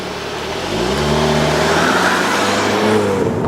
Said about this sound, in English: do a brake stand, let her fly.